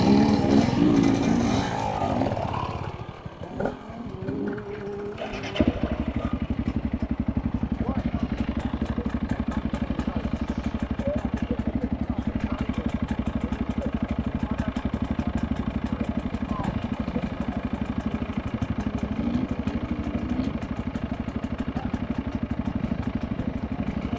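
An enduro motorcycle engine runs in first gear while riding, a steady loud drone with buzzing harmonics that holds throughout after a brief rougher stretch at the start, with voices briefly heard over it.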